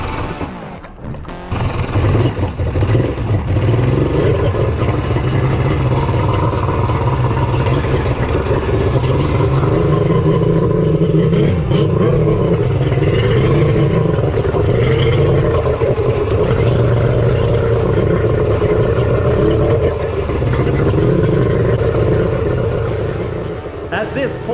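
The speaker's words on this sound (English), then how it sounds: "I was idling along through the no-wake zone, trying to get a feel for what was going to happen" A boat engine idles through a no-wake zone on a lake, firing on one side, with a steady, low, continuous rumble that holds nearly unchanged from start to finish, close and fairly loud.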